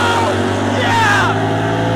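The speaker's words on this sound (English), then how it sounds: "And on the rev limiter and the lights." A 1967 Camaro drag car's engine holds a loud, steady high-rpm drone on the rev limiter at the strip, a continuous roar with a slight stutter throughout and faint shouting mixed in.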